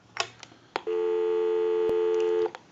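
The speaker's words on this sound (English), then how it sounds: "We'll call my number, and it'll be busy." A Stromberg Carlson 1212 rotary desk telephone gives a loud, steady busy tone lasting under two seconds, framed by handset clicks just before and after.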